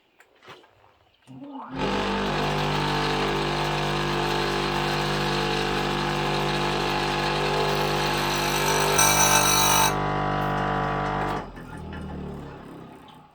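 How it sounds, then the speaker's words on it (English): A chainsaw sharpener's grinding wheel, buckled and wobbling, spins up after a short pause. It runs as a loud, steady, droning whine for about ten seconds, then cuts off and winds down. No one speaks. "when I fired up the saw sharpener, you saw that oscillation"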